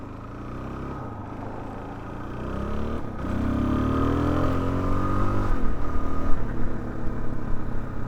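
A Suzuki DR-Z4S dual-sport motorcycle accelerates through rising revs and a shift, the engine growing louder and rougher over several seconds from a close onboard position, with no talk.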